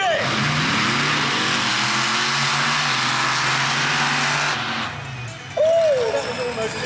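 Monster truck engine at a Truckfest show in Peterborough, a loud sustained roar that rises and falls as it revs, cuts off abruptly, then returns as a short surge.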